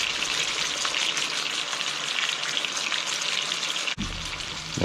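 Pork chops frying in butter and oil with mashed garlic and thyme sprigs, a steady close sizzle and spatter running throughout with a brief dip near the end.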